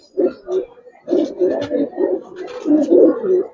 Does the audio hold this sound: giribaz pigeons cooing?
yes